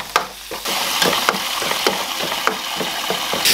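Scallions, oil and salt fry in a hot pot with a steady, loud broadband sizzle, broken by a few sharp clicks and scrapes as they are stirred, with no voices.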